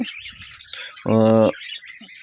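A budgerigar chick gives one short, harsh, nasal squawk near the microphone, with faint rustling and small chirps before and after.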